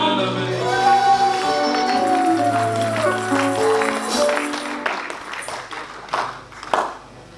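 A church congregation breaking into applause and cheering during a French-language service, the scattered clapping building up under lingering sustained tones and a few voices, growing denser toward the end.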